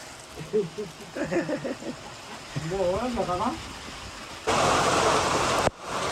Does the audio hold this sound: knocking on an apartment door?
no